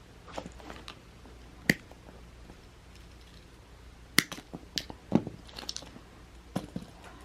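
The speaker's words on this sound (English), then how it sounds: "I'm going to cut the connectors off so I know to pull them all the way through" Old connectors being cut off a wiring harness during an engine swap, scattered sharp snips and clicks spaced irregularly at close range over quiet background.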